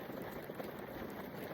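Heavy rain pours at about five in the morning on a tent during truck camping at Land Between the Lakes, with wind blowing. It is a dense, steady, hissing patter, faint and constant.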